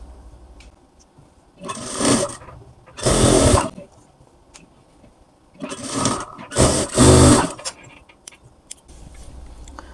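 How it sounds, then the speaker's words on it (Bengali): A sewing machine stitches a blouse seam in short bursts: four loud, close runs of rapid mechanical whirring, each lasting about a second, separated by quiet pauses, with no talk. "হাফ ইঞ্চি আমরা দুই পাশে একটু একটু করে সেলাই ধরে কমিয়ে দেব"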